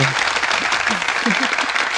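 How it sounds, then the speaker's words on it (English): A short burst of dense, even applause fills two seconds, a steady crackling wash of many hands at moderate loudness with no voices over it. "that does not deserve a round of applause"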